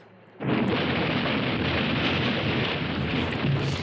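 A sudden loud explosion at a bunkhouse in a Nancy Drew game set at Icicle Creek, breaking from a quiet start into a sustained roaring rumble that lingers for several seconds.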